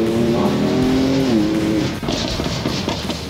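BMW M4 accelerating hard with wheelspin, its engine note climbing under load then dropping as tyres scrabble for grip, heard from inside the car at steady loudness.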